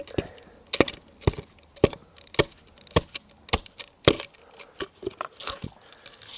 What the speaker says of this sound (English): banging the edge on that brick